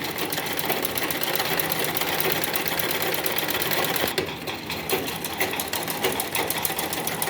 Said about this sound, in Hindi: यहाँ पे पक्की सिलाई करनी है, डबल सिलाई करनी है।